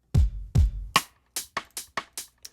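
A sampled rim shot from a Splice pack in a drum pattern, sharp dry clicks with a couple of deeper kick-like hits early on, then a quick run of crisp snappy strikes in an uneven rhythm, close and loud.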